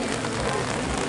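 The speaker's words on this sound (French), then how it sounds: "Il pleut un peu." Light rain falls at a rallycross track in Mayenne during a Twingo R1 cup final, a steady, even hiss of drops on surfaces filling the whole moment with no distinct events.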